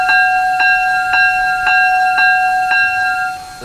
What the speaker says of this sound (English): It's a bit high-pitched sound of the bell sound of from Satiana, the climax locomotive,